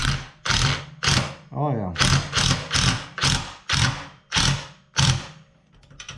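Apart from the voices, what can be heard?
ratchet tightening bolts on a tubing bender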